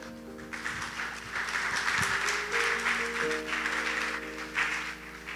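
A church congregation applauds during a Lord's Supper service, a sustained, moderately loud wave of clapping that rises and swells over steady background tones.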